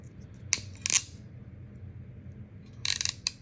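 Ratcheting wire stripper crimpers click sharply in two brief clusters of snapping ratchet clicks, close and crisp against a low background hum.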